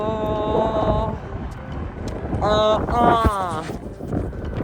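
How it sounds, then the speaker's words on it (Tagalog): Strong wind roars steadily against the microphone aboard a ship at sea, a loud continuous rush that runs under a voice speaking throughout. "Lakas ng hangin"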